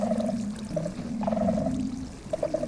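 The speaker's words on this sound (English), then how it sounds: "there should now be a giant trail of water coming through the 6x6 tunnel." Water flows through a 6x6 tunnel in Minecraft, making a gurgling, bubbling run with tonal burbles, moderately loud and steady.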